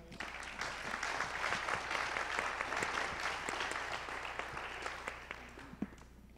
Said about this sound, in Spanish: quería pedir un fuertísimo aplauso